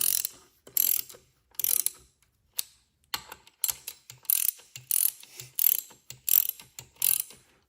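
A ratchet tightens engine bolts during a rebuild of a 1974 112, giving close, crisp clicking strokes in uneven bursts with brief pauses between pulls.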